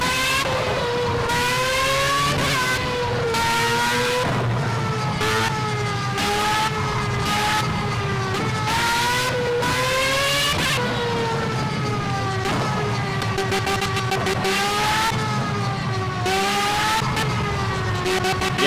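Formula A race car engine in the video game Project CARS, a loud high-pitched whine rising and falling repeatedly through gear shifts as the open-wheel car accelerates and brakes around the track, heard alone.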